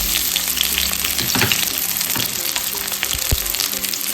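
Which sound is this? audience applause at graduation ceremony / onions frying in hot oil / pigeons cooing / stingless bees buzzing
onions frying in hot oil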